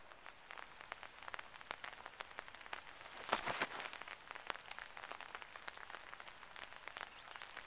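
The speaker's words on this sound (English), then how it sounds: "There's Mr. Whippet sitting in the sunshine, in the rain, in a sun shower, on Boxing Day." Steady light rain patters on surfaces during a sun shower below snowy Shasta Bally, Whiskeytown, with scattered drips and a brief louder spatter midway; no voices.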